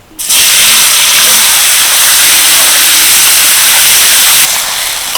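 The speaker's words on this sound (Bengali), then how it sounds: "এবার যে সয়াবিনটা আমি মশলার সাথে মেখে রেখেছিলাম সেটাই কড়াইয়ের মধ্যে দিয়ে দেবো" Spiced soybean chunks for a Mayapur-style veg biryani hit a hot kadai, setting off a loud, steady hissing sizzle that starts abruptly and holds strong throughout, easing slightly near the end.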